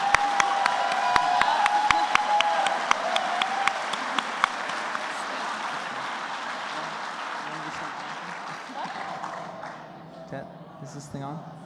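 Convention audience applauding after a fan episode screening, a sustained wave of dense clapping with a few whoops that gradually thins and fades, while a voice speaks briefly over it.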